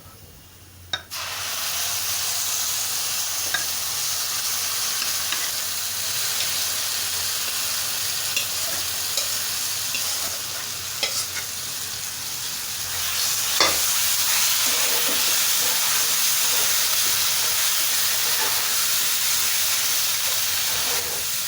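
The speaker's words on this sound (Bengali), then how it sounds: "তো এখন জিরাটা একটু নেড়েচেড়ে মিশিয়ে নিয়ে সে আগে থেকে সেদ্ধ করে রাখা কচুরগুলো" Boiled taro stems frying with cumin in a hot pan, a continuous loud sizzle and hiss with occasional scraping stirs, close up and without speech.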